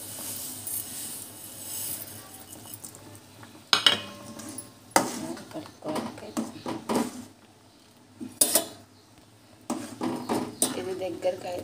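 Upma stirred into boiling water in a pot, with scattered scrapes and metallic clinks of a spoon against the rim in irregular bursts and a voice faintly in the background.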